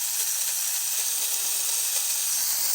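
An old Lima FP45 model locomotive, its motor running under power, gives off a thin, steady whirring hiss, close and fairly quiet, with no voices.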